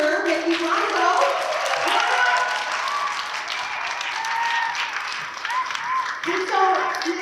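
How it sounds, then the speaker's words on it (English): Broad, sustained applause from a crowd fills the clip, steady clapping with a slight dip midway, while a voice speaks faintly underneath. "how about a great big round of applause for Mr. Ricky Blanco?"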